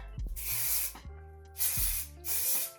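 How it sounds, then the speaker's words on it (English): An aerosol can of hair spray hisses in three bursts onto bangs, each spray close and steady for roughly half a second, separated by brief pauses and faint handling sounds. "So I'm gonna spray these."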